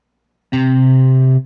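A single sustained synth lead-guitar note, bright and buzzy with rich overtones, starts abruptly and holds for about a second before cutting off. No voices.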